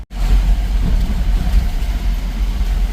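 A car engine drones steadily at night on the road from Dajipur to Kolhapur, a loud, continuous low rumble heard close from inside the cabin with no voices.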